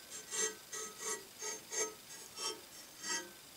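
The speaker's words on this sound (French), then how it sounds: "Après passage avec une lime moyenne, une lime fine et une pierre." Hand file rasping over a Husqvarna chainsaw chain during sharpening, six or seven evenly spaced scraping strokes about every half second, close and fairly quiet, with no talking.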